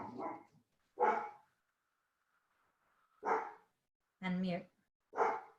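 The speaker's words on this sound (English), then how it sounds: "my dogs are barking" Dogs barking at home during an online meeting, a handful of separate barks and yips spaced out with quiet gaps between them.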